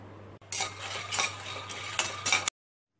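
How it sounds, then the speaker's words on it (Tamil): Peanuts dry roasted in a pan without oil, stirred with a utensil in a few scraping, rattling strokes for about two seconds, close and fairly quiet, then silence. "எண்ணெய் ஊற்றி வறுக்க வேண்டிய அவசியம் இல்லை, நம்ம ட்ரை ரோஸ்ட் பண்ணால் போதும்."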